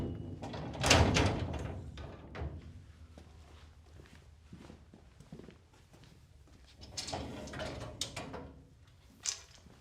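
Metal Tekton tool cabinet drawer and its carriage being slid and removed after sliding the rear locks, with a couple of louder clattering scrapes at the start and near the end and quieter rustling handling between.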